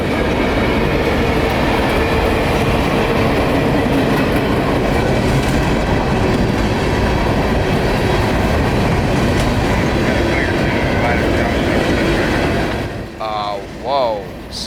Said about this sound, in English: CSX train Q452, a mixed freight train coming out of Hialeah Yard in Miami